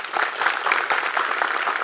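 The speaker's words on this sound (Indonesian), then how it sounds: "Tepuk tangan untuk mereka." A room full of people clapping steadily and fairly loudly, a dense continuous patter of hands with no voices on top.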